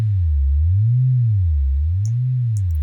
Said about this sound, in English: So it's going to sway the pitch up and down at the moment.